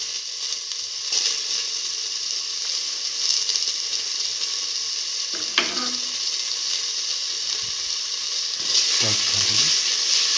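Chopped shallots go into a hot pan and sizzle in a steady, loud hiss throughout, with a couple of brief clatters of a utensil against the pan.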